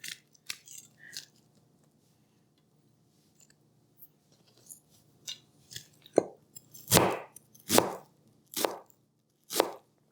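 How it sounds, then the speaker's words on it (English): A Paudin Damascus VG10 kitchen knife chopping onion on a board for a chopped salad: a few light taps, then a run of about five sharp, evenly spaced chops growing louder, with no talking. "We're going to cut it this way. I don't want it in small because I don't want a big chunk of onion in my salad."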